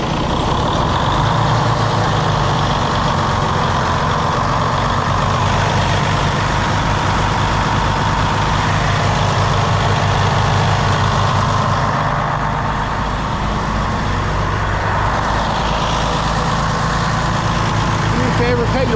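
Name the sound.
truck engine idling with idle raised to 1,000 rpm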